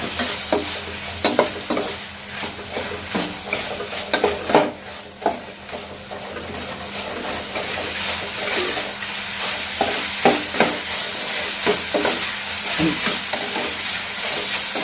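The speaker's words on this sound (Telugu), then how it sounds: "పసుపు యాడ్ చేసిన తర్వాత మళ్ళీ ఒకసారి మిక్స్ చేయాలి" Flat beans (chikkudukaya) with a pinch of turmeric sizzle in a pan while a spatula stirs them, giving a steady frying hiss broken by frequent scraping strokes and clacks against the pan.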